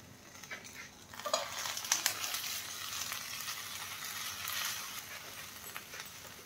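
Banana leaf packets of food cooking on a hot tawa over a gas flame, giving a faint, steady sizzle with light crackling and occasional soft scrapes, quiet and close with no voices.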